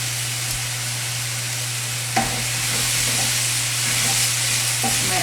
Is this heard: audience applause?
no